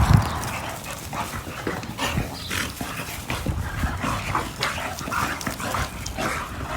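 Several American Bully dogs whimper, yip and bark in short bursts close by, restless and excited, with scuffling movement in between.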